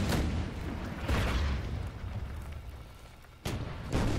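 Heavy weapon fire in the video game Red Steel, a few loud booming blasts with rumbling tails, dense and continuous, with a sharp new burst near the end.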